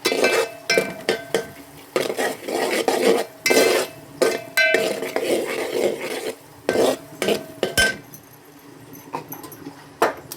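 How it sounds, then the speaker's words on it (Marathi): A whisk clinks against a metal pot while beating gram flour (besan) batter for Sindhi kadhi, with quick rhythmic scraping bursts and short pauses between strokes, close and fairly loud. "आणि त्याच्यात बेसन टाकून छान मस्त फेटायचं."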